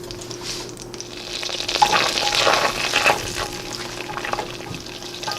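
Butter melting in a pan for keto caramel pecans gives a steady, close sizzle and crackle that swells slightly midway, with faint stirring scrapes and no voices.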